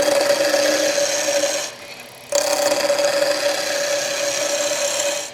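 A small wood blank is turned on a lathe with a skew chisel, rounding it off. The motor hums with a steady whine, and the cutting scrapes loudly and close. The sound drops briefly in the middle, then resumes at full strength, with no speech.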